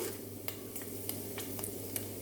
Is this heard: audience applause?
no